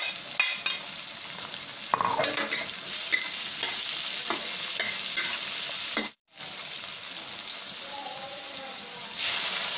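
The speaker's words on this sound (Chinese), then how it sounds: "然后把这些棕苞米放进去，和腊肉一起炒。" Palm flower buds are stir-fried with cured pork in a wok, producing a continuous close sizzle with scattered scraping and clanking of the spatula, briefly cutting out before resuming.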